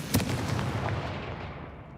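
The Confringo blast spell from Hogwarts Legacy goes off as one sharp boom followed by a rumbling decay that fades over about two seconds.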